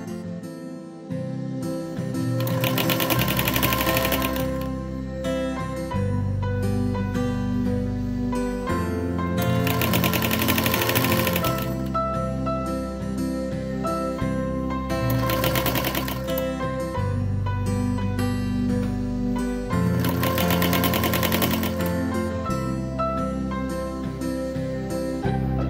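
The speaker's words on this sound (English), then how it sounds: "Start sewing, and the ruffle will be assembled and sewn in a seam with the flat fabric all in one motion." A sewing machine fitted with a ruffler foot runs in several short bursts, gathering a ruffle and seaming it to flat fabric, with steady background music playing throughout.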